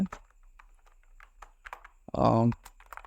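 Sparse, light key clicks from a computer keyboard, with brief irregular taps, as a print statement is typed, followed by a short burst of speech near the end.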